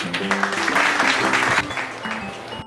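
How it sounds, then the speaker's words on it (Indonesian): Classroom applause during a micro-teaching math lesson: a steady burst of clapping from the students, fairly loud and dense, lasting about two and a half seconds before cutting off. "Kasih aplaus dulu untuk Ahmad."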